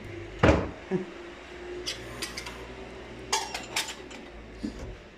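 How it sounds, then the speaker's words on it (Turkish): Dishes being put away by hand in a home kitchen, unloaded from a dishwasher: a heavy clunk, then scattered clinks of glass and crockery with a cupboard knock, close and moderately loud, no voices. "Şimdi bulaşıklarımı yerleştireyim"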